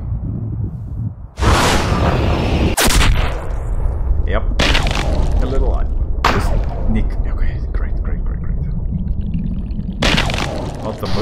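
Rifle shots aimed at a caribou in the hunting video game Cabela's Big Game Hunter ring out as several sharp, loud blasts spaced a few seconds apart, each trailing into a short echoing decay.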